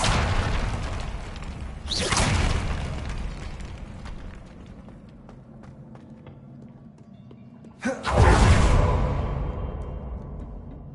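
Depulso force spell cast in Hogwarts Legacy, two sharp whooshing bursts with booming impacts, one near the start and a louder one about three-quarters through, over quiet game ambience, with faint talk in between.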